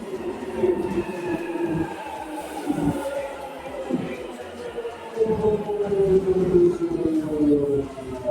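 A train stands at a UK station platform, its low rumble and a long squeal of wheels running under a busy background of crowd noise.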